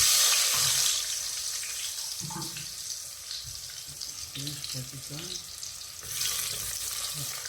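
Onions going into hot oil and frying, a broad steady sizzle with a louder hiss at the start and again near the end, plus a few light utensil knocks, close by, with no talking.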